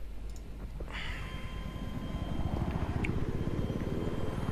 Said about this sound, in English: Oh, there's the chopper.